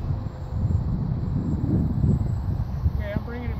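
Steady low-pitched wind roar of about 20 knots buffeting a microphone while an electric glider flies, continuous and loud throughout, with a brief higher whine near the end.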